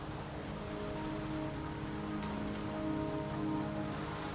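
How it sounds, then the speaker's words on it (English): Steady rain patters on surfaces in the Wuthering Waves video game, a soft, even hiss of drops with no voices over it. "Don't worry, the rain won't last much longer."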